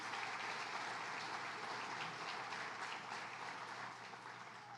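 Steady, dense applause from a crowd, sustained throughout at an even level and fading slightly toward the end.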